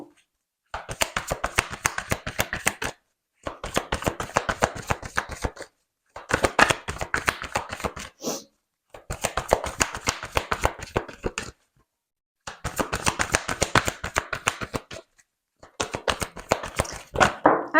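Tarot cards are shuffled in repeated bursts of rapid riffling clicks, each lasting a couple of seconds and separated by short silences, close and crisp.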